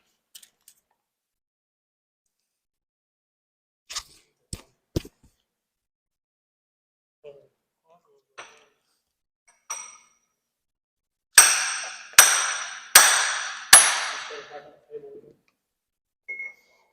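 A hammer drives a pilot bushing into a NASCAR engine build. Scattered faint metallic taps and clinks come first, followed by four loud, ringing hammer blows in quick succession.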